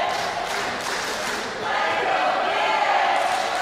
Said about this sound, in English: The crowd coming alive here.